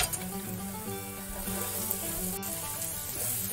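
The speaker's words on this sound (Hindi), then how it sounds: "प्याज को भाजी दबा भलसे" Chopped onion, garlic and ginger fry in hot oil in a kadai with a dense, continuous sizzle, close and even, with faint stirring beneath.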